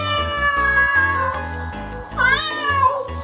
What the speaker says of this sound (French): Le chat miaule.